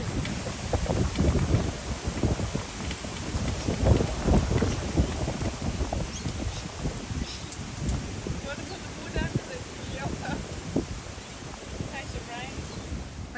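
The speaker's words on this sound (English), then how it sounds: "Hopefully it's just a gust for now." Wind gusting across a campsite at The Homestead, Lotus Creek, buffets the microphone in loud, ragged rumbling bursts that persist for over ten seconds, with people talking faintly underneath.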